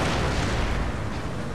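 Canister shot artillery fire in Empire Total War during a Mughal campaign, heard as a continuous roar of blast noise and distant gunfire that stays loud and steady throughout, with no voices.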